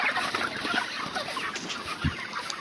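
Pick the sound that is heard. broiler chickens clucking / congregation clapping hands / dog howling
broiler chickens clucking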